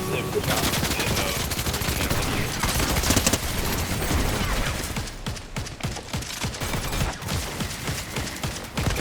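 Dense, rapid gunfire from a weapon in the video game Fortnite, a steady barrage of loud shots filling the whole stretch with a clattering rhythm in the last few seconds.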